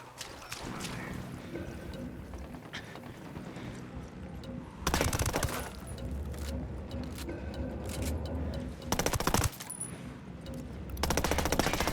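Bursts of automatic gunfire in the Ghost Recon Wildlands video game, loud broadband volleys at around 5, 9 and 11.5 seconds over a steady rumble of vehicle engine and background combat ambience, with speech faintly present in between.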